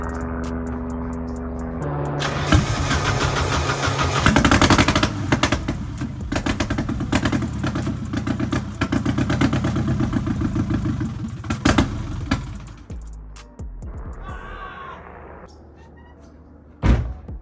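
A Nissan S13 with an open header cranks, fires and runs loud and raw, a rapid rough rumble with sharp bursts for about ten seconds before it cuts out, followed by quieter handling noises.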